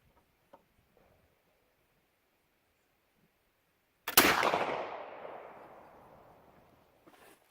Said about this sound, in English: Pull with the full cock and shoot.